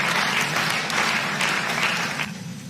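Audience applause at a speech on police reform, a steady dense wash of clapping held at the same level throughout and easing slightly near the end.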